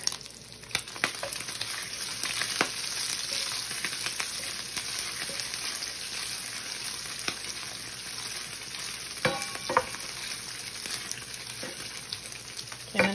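Yellow corn kernels sizzle and fry in a pan, a steady crackling hiss broken by intermittent scraping and clicking as they are stirred, close and moderately loud with no talking.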